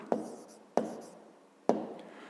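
Handwriting with a pen during a fifth-grade geometry exercise: three sharp, separate strokes or taps, each trailing off quickly, with quiet scratching between them and no voices.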